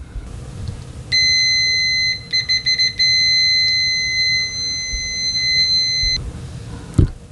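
A UNI-T UT117C multimeter's continuity beeper at maximum volume sounds a loud, shrill, steady tone, stuttering briefly into a few short beeps before holding for several seconds, close and piercing, with faint handling noise around it.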